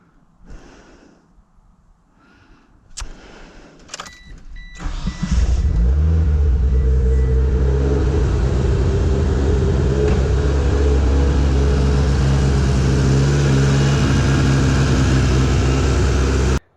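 A Mitsubishi Eclipse GSX engine, started for the first time in months after new fuel lines were fitted, cranks with a few clicks, then catches and settles into a loud, steady idle rumble nearby.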